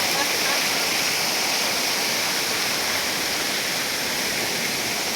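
A famous waterfall among hills at Jugail in Sonbhadra's Chopan block roars in a steady, dense, loud wash of falling water that fills the whole clip without pause.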